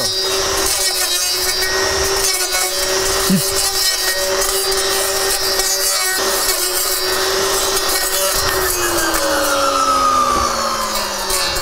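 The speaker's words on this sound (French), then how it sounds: "On entend bien le bruit de la lame." A Greenworks 40V cordless brush cutter's steady high whine with the blade chewing through dense oak shoots, the pitch dropping as the blade winds down near the end.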